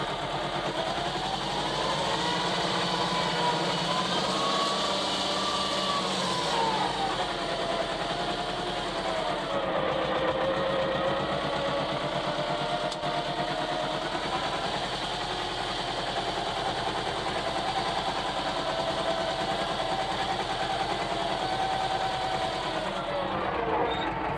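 Diesel engine of a 1997 Farm-mot 250D tractor idling at low revs around 700 rpm, a steady continuous mid-pitched throb heard close and fairly even throughout.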